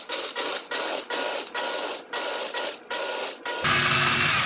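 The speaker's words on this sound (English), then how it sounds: "I'm going to pulse this to where it basically kind of gets crumbles" A food processor pulses cookies into crumbs: loud, close bursts of whirring motor, about eight short pulses in a regular rhythm, ending in a longer steady run.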